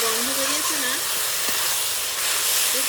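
A spice masala fries in oil in a kadai, giving a steady close hiss and sizzle that carries on throughout, with a brief voice-like hum near the start.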